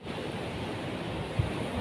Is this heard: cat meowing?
no